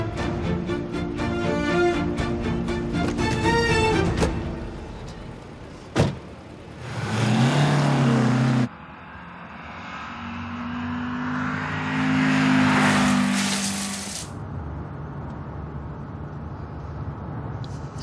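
A car engine revs and accelerates in bursts, growing loud and close, with a thud partway through and road noise between.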